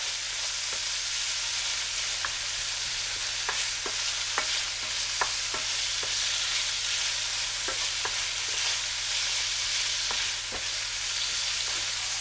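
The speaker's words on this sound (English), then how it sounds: "So we want to cook the bacon so it's got a little bit of crispiness." Bacon frying in a pan to a light crispness, a steady broadband sizzle with intermittent sharp crackles and pops, close and alone, with a faint low hum underneath.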